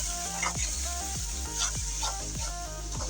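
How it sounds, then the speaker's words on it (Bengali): Spice paste with coriander powder fries in a pan for a spicy poa fish bhuna, a soft, close sizzle broken by regular light scraping strokes. "তো এই তো মশলাটা ভালো করে কষিয়ে নিচ্ছি"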